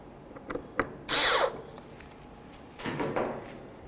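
Power tool driving window regulator bolts on a 2008–2012 Jeep Liberty door: a loud one-second burst of whirring with a falling pitch, then a longer, softer run, between small clicks and quiet pauses.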